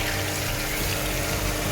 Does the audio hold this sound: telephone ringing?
no